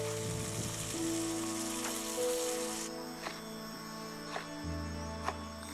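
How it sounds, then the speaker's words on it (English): Ingredients sauté in a pot of ghee for a curry, giving a soft, steady sizzle under faint ticks and small clinks, with no talking. "It's all going straight into one pot, starting with sauteing these guys off."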